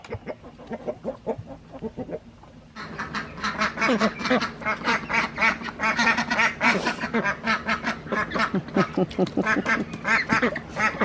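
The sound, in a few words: flock of chickens settling into the coop at night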